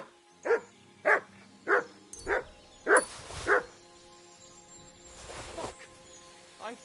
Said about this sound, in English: Good dog, Mutt. Show me.